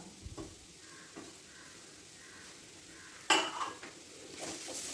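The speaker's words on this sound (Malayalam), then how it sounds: "ഇനിയിപ്പോൾ അതിലേക്ക് ചതച്ച് വെച്ച ഇഞ്ചി വെളുത്തുള്ളിയും കൂടെ ചേർത്ത് കൊടുക്കാം" Crushed ginger and garlic fry quietly in a pan for egg curry. A soft steady sizzle runs throughout, with a couple of spoon scrapes and one sharper clink midway, and no talk.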